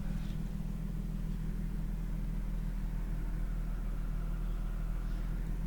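A 1992 Nissan Skyline GTS-T Type M sedan engine idles steadily with a constant low rumble and hum, close by and unchanging throughout with no voices.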